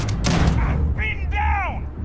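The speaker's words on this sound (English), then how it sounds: "Opening fire!" Gunfire in Starfield: a loud, booming shot burst at the start followed by ringing, metallic weapon tones, with a brief voice heard around the shots.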